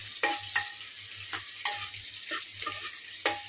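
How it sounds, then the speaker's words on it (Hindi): Onions frying in oil flavored with garam masala for mutton biryani, stirred in the pan with a spoon; sharp scraping stirs arrive every half second or so over a soft steady sizzle, with no talking. "अनियन को ज़्यादा ब्राउन नहीं करना है बिकॉज हम बिरिस्ता भी डालने वाले हैं, तो बस हल्का थोड़ा कलर चेंज होने तक फ्राई करते रहना है"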